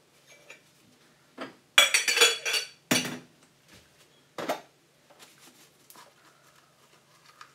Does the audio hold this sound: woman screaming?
no